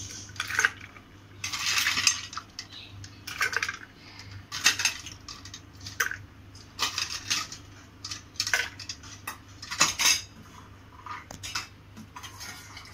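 Ice cubes clatter and clink one after another into a glass of fresh pomegranate juice, a series of sharp, close knocks spread across the moment with no talking.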